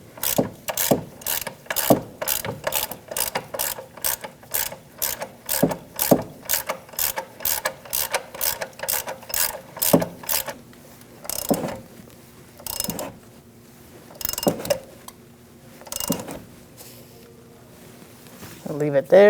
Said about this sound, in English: Using a 19 millimeter, we're going to tighten down this nut.